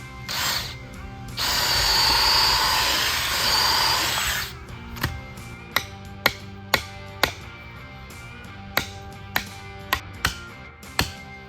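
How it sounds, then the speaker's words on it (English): A power drill whines for a few seconds while boring into retaining wall timbers, followed by a series of sharp, evenly spaced metallic blows as a sledgehammer drives 10-inch spikes into the wood. "so you definitely need a sledgehammer for that"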